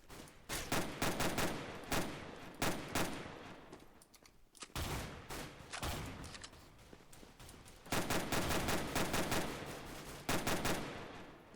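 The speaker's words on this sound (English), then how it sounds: "I shoot Xavier. And he fucking shoots me" Counter-Strike gunfire fills the clip with repeated bursts of rapid automatic shots, loud and close, broken by brief pauses between volleys and no talking.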